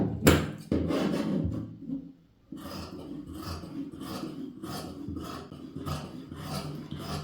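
Scissors cut through chudithar fabric during tailoring, giving close, repeated rasping snips in a steady rhythm with one brief pause, and no talking.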